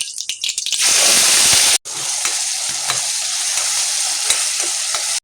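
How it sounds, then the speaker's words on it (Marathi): Mustard seeds, cumin, curry leaves and a ground paste hit hot oil with a loud, crackling sizzle and stirring; a sharp break, then steady frying continues with small pops. "तेल चांगलं गरम झालं की त्यामध्ये मोहरी, जिरं आणि थोडासा कढीपत्ता आणि आपण ही जी पेस्ट करून घेतली आहे ती टाकून घ्यायची"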